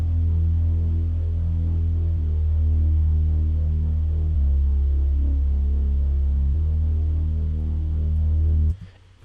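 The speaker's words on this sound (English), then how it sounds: "it's a super simple bass, it's obscure. It's from some EDM sample pack." A simple, subtle bass from an EDM sample pack plays alone: low, throbbing sustained tones with slight distortion, shifting pitch every couple of seconds before cutting off abruptly.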